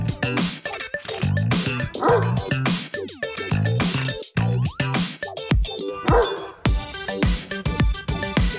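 A Great Dane dog barks in a run of deep, loud, close barks and yelps, repeated in quick bursts throughout.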